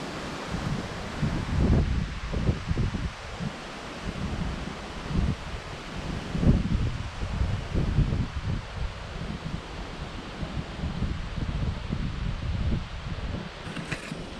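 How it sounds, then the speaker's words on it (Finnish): Strong gusty wind roars steadily outdoors beside a parked car at a concert venue, with rustling leaves and rumbling buffets on the microphone throughout, no voices. "Onpas täällä tuulinen päivä, todella tuulinen."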